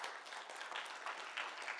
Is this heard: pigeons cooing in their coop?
no